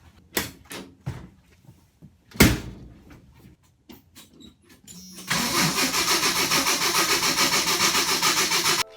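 A 1987 Jeep YJ sits quiet through a few scattered knocks and clicks, then its engine cranks, catches and settles into a loud, steady, pulsing idle close by.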